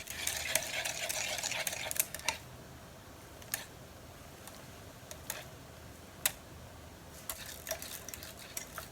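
Quiet hand stirring of a mustard-yellow cosmetic emulsion for a neutral hair base after adding preservative, with soft irregular clicks and scrapes of a utensil against a container, scattered taps over a faint background.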